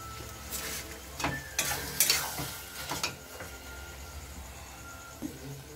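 Butter melting and sizzling in a pan for egg tadka, stirred with a spatula in several quick scraping strokes over a soft steady hiss, close and fairly quiet.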